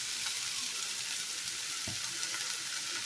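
Drained cabbage frying in a pan gives a soft, steady sizzle with occasional scrapes of stirring, faint and close with no voices.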